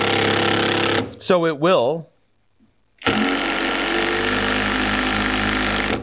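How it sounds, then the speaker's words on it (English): SKIL 12V PWRCore driver on low speed sinking 3-inch screws into wood, a loud continuous buzzing motor drone that pauses for a short spoken phrase and a near-silent gap, then resumes for several seconds. "Let's see if it'll drive these 3-inch screws on low."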